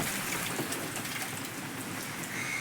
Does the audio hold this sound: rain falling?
yes